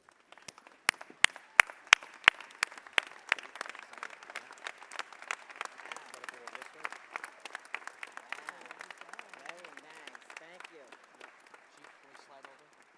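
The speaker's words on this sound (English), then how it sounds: "So please stand to your feet and give her a round of applause." Standing applause at a graduation event starts with a few sharp, close individual claps, then swells into dense crowd clapping with voices and cheers mixed in before gradually thinning out.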